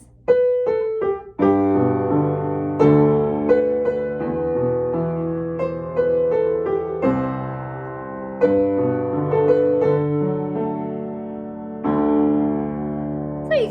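Keyboard playing broken chords alternating with octaves, clear sustained notes in a steady flowing pattern, no voices.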